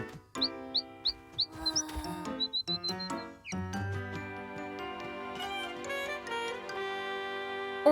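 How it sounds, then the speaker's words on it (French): A small cartoon bird gives a quick run of high, bright chirps, then a few more, before music takes over and carries on to the end. "On dirait que l'oiseau va bien mieux."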